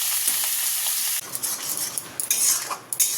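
Nigella seeds and green chilies are tempered in hot oil in a home kitchen, a steady close sizzle followed by the scrape and clink of a utensil stirring the pan.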